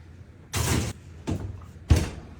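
A kitchen oven door thumps and clatters shut, with three short knocks about half a second apart, close and fairly quiet, no talking.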